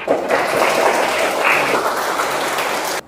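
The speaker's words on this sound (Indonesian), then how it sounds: "Ya, tepuk tangan dulu." Students clap in a classroom during a lesson on computer networking, a brief, fairly loud burst of dense applause that holds steady for about three seconds and then stops abruptly.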